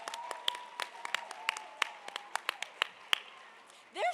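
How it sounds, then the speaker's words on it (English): Gala audience applause, a scattered round of sharp individual claps from a room of guests, moderately distant, with a faint voice murmuring underneath and a louder vocal sound at the very end. "please give her a big enough loud applause so she knows how appreciated she is"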